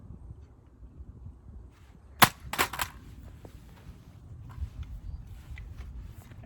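A rifle fitted with a Monstrum Tactical Marksman 3x30 prism scope drops from shoulder height onto dirt ground, giving one sharp impact followed by a short rattling bounce, close and loud over quiet outdoor background.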